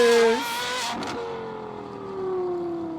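Cars driving on a road close by, engine tones whining and sliding in pitch as vehicles speed up and pass, with a steady traffic hum underneath.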